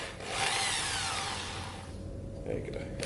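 A power drill drives a screw into a wooden work surface. It gives a close, whirring whine that climbs and then cuts out after about two seconds, followed by brief handling noises.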